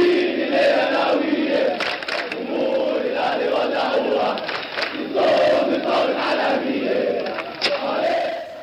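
Arab ultras football supporters chant loudly in the stands, a dense massed roar of voices singing in unison with rhythmic swells and occasional sharp shouts, close and continuous.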